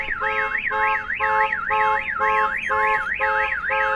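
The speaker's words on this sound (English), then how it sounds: "The alarm goes off and the pager goes off." A loud electronic Compustar T12 car alarm wails in a rapid rising-and-falling sweep, repeating steadily with pulsing tones underneath, close and unbroken.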